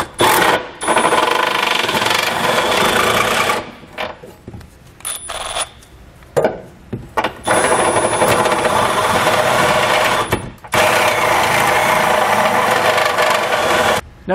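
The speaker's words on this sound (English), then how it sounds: "I'm going to be using a step bit just to make the process a little bit faster." A power drill with a step bit bores out a hole in the steel frame of a 2019 Subaru Crosstrek for hitch installation, loud grinding whine in several long bursts with short pauses.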